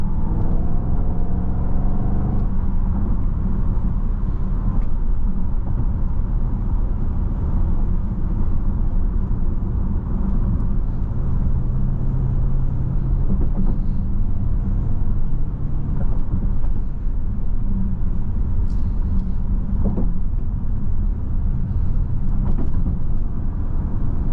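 A 2023 Jaguar F-Pace SVR accelerates hard on a test drive, its engine rising in pitch through the opening seconds and then settling into a loud, continuous cabin roar of engine and road noise.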